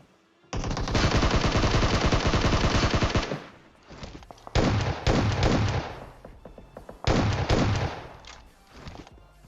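Rapid bursts of automatic gunfire in PUBG Mobile, one long sustained burst followed by several shorter volleys with brief pauses between.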